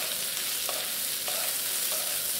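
Tender bamboo shoots stir-fry with green and red peppers in a wok, a moderate continuous sizzle marked by three evenly spaced spatula scrapes.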